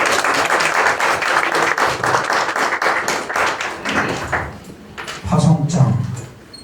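An audience at a mission forum applauds a missionary being commissioned to Thailand, brisk crowd clapping that thins midway and swells again briefly, with a low voice murmuring near the end.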